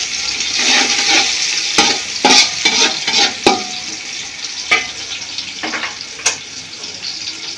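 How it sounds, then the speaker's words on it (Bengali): Onions and ingredients frying in a pan for homemade biryani, stirred until light brown: a loud sizzling hiss with repeated sharp scrapes and clanks of the spoon, close up, no voices. "এবার আমি একটু নেড়ে নেব। হালকা একটা ব্রাউন কালার আসা পর্যন্ত অপেক্ষা করছি।"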